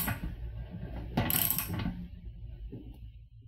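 Socket wrench ratcheting on a 1.25 inch lock nut of a weldless whirlpool kettle return fitting, a close run of mechanical clicks that thin out into a few scattered ticks.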